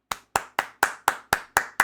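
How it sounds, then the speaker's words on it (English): Hands clapping in applause, eight sharp, evenly spaced claps from a single nearby person, each one crisp and loud with a quick decay, and no talking between them. "I applaud you. You stayed."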